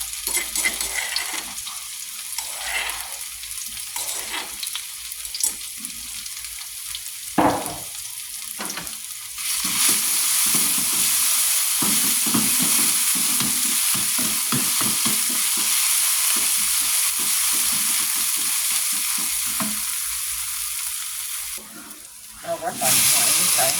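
Apple snails stir-fry in oil with holy basil, giving a loud, steady sizzle and hiss with scraping stirring strokes, which swells midway and then drops briefly near the end.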